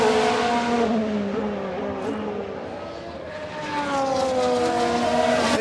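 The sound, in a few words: Ferrari F1 car engine racing, from the video game F1 Manager 22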